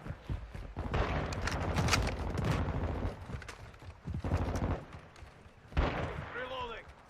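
Gunfire bursts in Call of Duty: Modern Warfare 2 (2022) gameplay, with dense fusillade-like volleys in repeated bursts and a voice talking over parts of the action.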